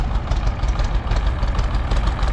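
A Massey Ferguson 255 tractor with a failed clutch rumbles close by as it pulls into a workshop, its diesel engine a steady low, slightly knocking drone.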